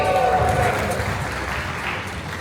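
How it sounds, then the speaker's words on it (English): An audience applauds at a Halloween Horror Nights preview at Universal Studios Singapore, a dense, steady wash of clapping that fades slightly over a couple of seconds, with a host's voice over it. "One more big round of applause for the babies"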